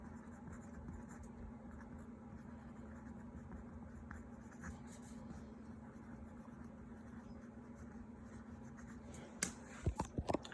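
Pen writing notes on paper, a faint, steady scratching under a constant low hum, ending in a few sharper taps and clicks, with no voices.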